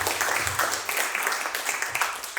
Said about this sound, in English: I think that they deserve another round of applause.